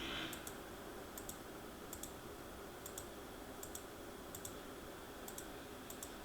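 A computer mouse clicks while a stamp tool is used in a graphics program. Soft, evenly spaced double clicks repeat about every second under steady low background hiss, faint and with no talking.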